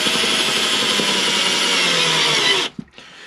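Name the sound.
power tool driving a small self-tapping screw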